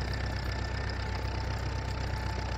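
A tractor engine in Farming Simulator 19 runs steadily at high revs, a continuous droning hum with a fine knocking texture that holds level throughout and has no speech over it.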